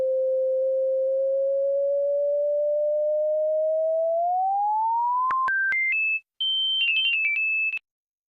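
An FM synthesizer's pure, steady tone slides slowly upward while carrier 1's frequency is changed, then jumps in quick upward steps and wavers among high pitches before a brief gap and an abrupt stop.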